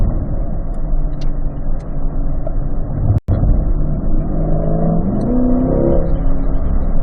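A 2020 Corvette Z51 engine revs loud and close on a race track, pulling hard as its pitch climbs in steady sweeps. A single sharp knock lands midway and breaks the steady roar.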